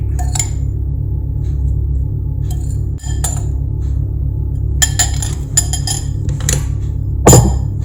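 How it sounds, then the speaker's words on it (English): A utensil clinks and scrapes around a bowl while apple crumble topping is mixed, giving sharp metallic taps over a low steady hum, with a louder knock near the end. "Mix it together and then sprinkle it onto the cake."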